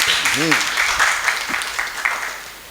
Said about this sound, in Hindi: क्या कहते हो सब लोग, ताली हो जाए मतलब अच्छे से